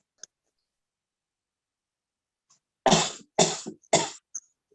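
Three close coughs come in quick succession during a Korean church small-group meeting, with faint clicks and near silence before them.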